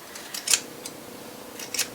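Scissors snipping rug pile on a loom, trimming the yarn to an even height: a few short, crisp metallic snips spaced apart, close by over a quiet background.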